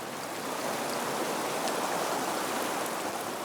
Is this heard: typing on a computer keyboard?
no